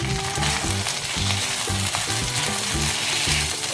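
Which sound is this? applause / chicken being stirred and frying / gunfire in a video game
chicken being stirred and frying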